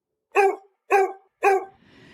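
A dog barks three times in an even rhythm, close and clear, followed by a faint soft rustle.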